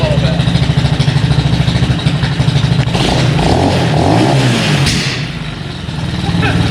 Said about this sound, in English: try to give it a few rev checks to kind of purge the system a little bit